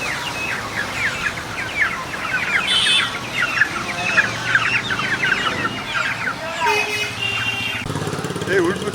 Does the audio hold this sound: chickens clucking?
yes